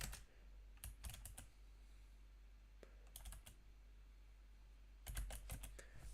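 Typing on a computer keyboard, with quick clusters of close, crisp key clicks in short bursts separated by pauses, over a steady low hum.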